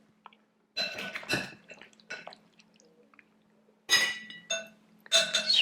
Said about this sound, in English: all I'm going to do is scoop it into some martini glasses